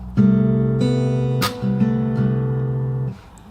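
Fingerstyle acoustic guitar picked note by note, sustained open strings ringing together in a short, steady phrase from a song, close and clear with no voices.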